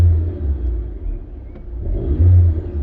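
A Rover 416SLi automatic car's engine idles smoothly just after starting, a steady low rumble close by with slight swells in revs and no talking.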